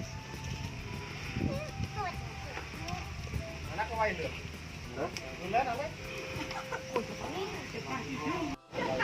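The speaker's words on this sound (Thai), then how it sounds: "ไก่ไก่มาเพิ่มเรื่อย ๆนะ" Chickens cluck and cackle steadily at a temple hut in rural Surin, Thailand, with several birds calling close by over a constant outdoor background. People talk throughout.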